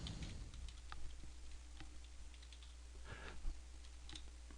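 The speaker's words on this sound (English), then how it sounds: "We type the word rollout." Light, scattered keystrokes on a computer keyboard tap at an irregular pace, faint and close over a low steady hum, with no talk.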